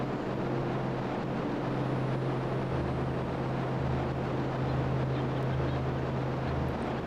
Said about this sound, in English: We've got about 5 engines going right now.